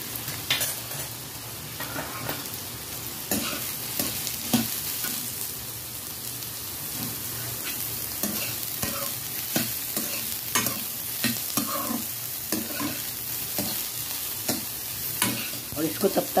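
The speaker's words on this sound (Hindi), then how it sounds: "अब इसमें हम डाल देते हैं बढ़िया, और इसको पिंक होने तक फ्राई कर लेते हैं" Soya chunks fry in hot oil for a Punjabi-style pulao, a steady loud sizzle broken by repeated scraping stir strokes of a spoon against the pan, with no one talking.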